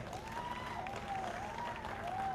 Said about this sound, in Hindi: एक बार इन सब के लिए जोरदार तालियां हो जाए।